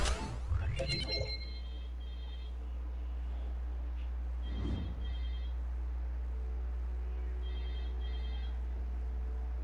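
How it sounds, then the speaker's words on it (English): A telephone rings in short repeated electronic bursts, a double trill heard several times at intervals over a low steady hum, with a brief clatter near the start. "Do not pick up that phone."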